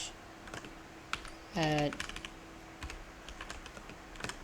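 Fingers type on a computer keyboard in light, irregular clicks close by, interrupted by a brief spoken word.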